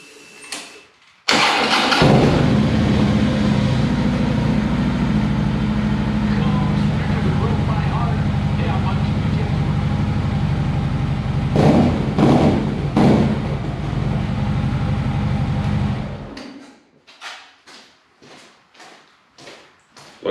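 A 2014 Harley-Davidson Electra Glide motorcycle engine cranks and fires, then settles into a loud, steady rumbling idle with a few throttle blips before shutting off, followed by a series of sharp clicks.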